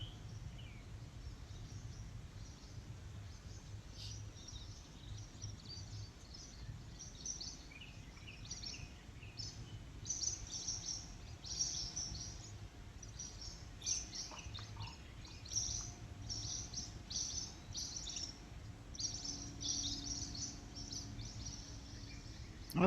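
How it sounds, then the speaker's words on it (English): Birds living in a tree call with repeated faint high chirps and tweets scattered through a quiet outdoor background, some distance away, with no one talking. "if you listen carefully, you can hear some birds, also inhabitants of the tree."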